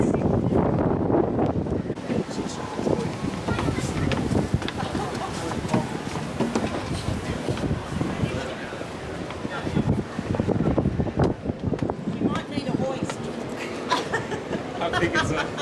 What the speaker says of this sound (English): It sounds kind of windy